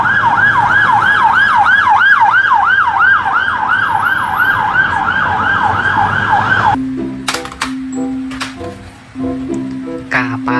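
A loud wailing police car siren sweeping up and down rapidly for several seconds, then cutting off as a voice begins speaking over a low hum.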